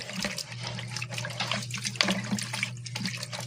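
Tap water runs steadily into a sink while helmet padding is soaked for cleaning. It makes a continuous splashing, hissing stream with a low hum beneath it and no talking.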